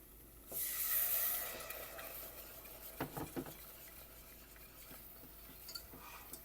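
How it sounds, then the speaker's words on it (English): Milk being whisked into a scalloped potato sauce in a pan, a pour followed by soft scraping whisk strokes and a few light metallic taps, faint and close. "Use the whisk, or in Swahili we call them piricho."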